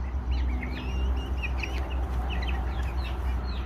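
Farm chickens, including breeding hens and roosters on a small farm, cluck repeatedly and overlap in a busy flock chatter over a low background hum, close and fairly loud.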